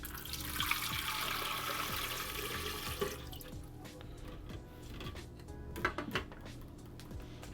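Water runs from a tap and pours to fill a reptile fogger, a steady rushing splash that gives way to clicks, knocks and light handling of plastic parts, fairly close and moderately quiet.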